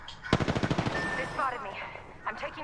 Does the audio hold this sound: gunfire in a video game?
yes